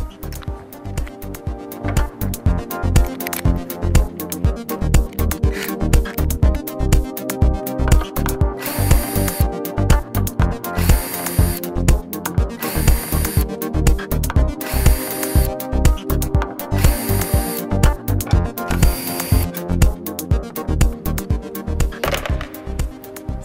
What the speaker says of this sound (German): Nach der Demontage des Fußes können Sie alle Gehäuseschrauben entfernen.